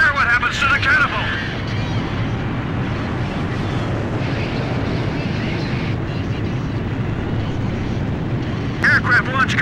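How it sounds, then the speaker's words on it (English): A fighter jet launches off an aircraft carrier catapult in Ace Combat 5, a loud, steady jet engine roar with rumbling blast. Radio voices can be heard over the noise at the start and end. "Aircraft launch confirmed."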